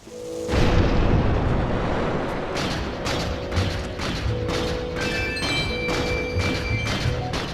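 A bomb detonates in Zelda: Twilight Princess HD, a loud booming blast that gives way to a dense, rumbling roar, with game music and chiming effects continuing over it.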